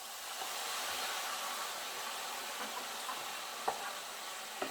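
Cauliflower rice with curry powder and vegetable broth stirred in a pan, a soft continuous sizzle and hiss with a couple of faint scraping taps, quiet and alone.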